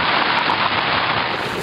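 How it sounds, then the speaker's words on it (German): Heavy rain pours down steadily over a mountain base camp during a night thunderstorm, a dense, loud, unbroken hiss with no voices. "Kurz darauf regnet es so heftig, dass das Lager droht, überschwemmt zu werden."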